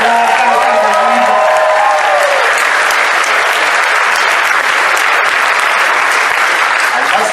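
Sustained, dense applause from a crowd, steady and loud for the whole stretch, with a voice briefly heard at the start.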